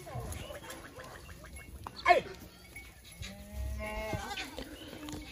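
Sirohi goats on a goat farm give several bleating calls, with one sharp cry and a longer stretch of overlapping bleats over a busy background with faint voices.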